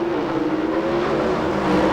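Jerry Eckman's Pennzoil Pontiac drag race car at the 1994 NHRA Mile-High Nationals at Bandimere Speedway gives a loud, steady engine roar that holds without a break, heard alone.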